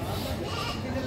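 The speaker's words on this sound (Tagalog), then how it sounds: "Dalawang inahin na po ito, ano? Dalawang inahin kambing," Goats bleat at a livestock market where cattle, carabao and goats are sold, a faint wavering cry buried in busy crowd noise and overlapping chatter from people nearby.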